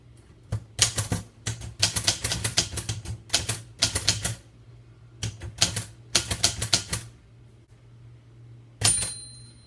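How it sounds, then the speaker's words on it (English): Keys strike on a We R Memory Keepers Typecast manual typewriter in quick clattering bursts with short pauses between words, close and crisp. A single bell ding rings near the end. "So I'm just going to type out a quick little sentence."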